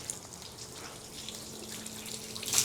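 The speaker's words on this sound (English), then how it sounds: "As I apply water to it, I'm flooding the panel again." Water is sprayed onto a car's body panel, making a steady close hiss and trickle that swells slightly toward the end, with no talking.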